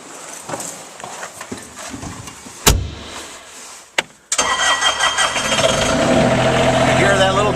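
A small Kubota diesel in a Bobcat S70 skid steer loader cranks, catches with a sharp burst and settles into a loud, steady idle, with some speech-like sounds and clatter before the start.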